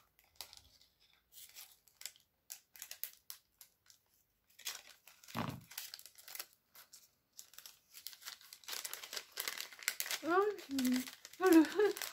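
Crinkling paper and plastic rustle in short bursts, with scissor snips near the end as a voice chatters nearby.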